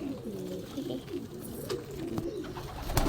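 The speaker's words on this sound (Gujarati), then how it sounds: "જો બધા કબૂતર આવી ગયા ને." Soft, repeated cooing of several pigeons close by, low rolling calls overlapping one another, with a few faint clicks and rustles.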